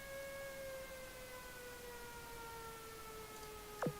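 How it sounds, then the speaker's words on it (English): Distant wailing sirens in the video game Azur Lane drone steadily with slowly sliding pitches over a quiet background, ending with a brief short blip. "We've heard these sirens before."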